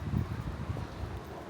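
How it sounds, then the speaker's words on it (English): Gusty wind buffets the microphone while someone walks outdoors in Montpellier, a low, uneven rumble rising and falling with no speech. "So windy."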